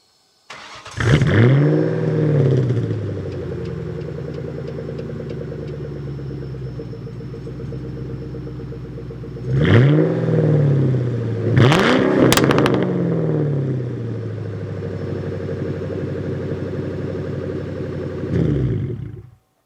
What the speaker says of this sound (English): This particular one happens to be straight piped. So we're going to give you a cold start.